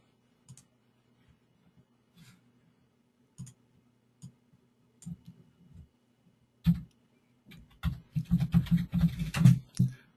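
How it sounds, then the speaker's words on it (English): Keys tap on a computer keyboard, starting as sparse, isolated clicks with long gaps, then building into a denser, quicker burst of typing near the end, close and fairly clear in a quiet room. "So I'm going to type that."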